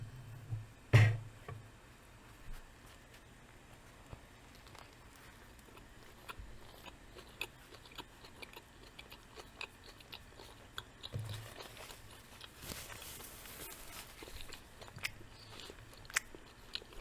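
Close-up crunching bites and soft chewing on a turkey sandwich with Swiss cheese and mustard, one sharp loud bite near the start followed by quieter, irregular chewing and small mouth sounds in a quiet room.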